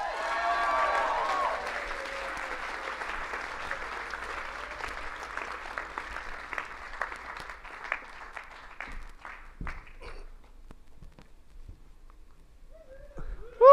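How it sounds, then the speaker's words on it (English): Audience applause for a speaker on stage swells loudly at first, then thins out into scattered individual claps before fading to near silence. "Thank you for your applause."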